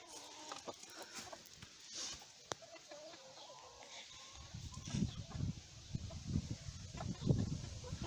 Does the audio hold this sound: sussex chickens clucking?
yes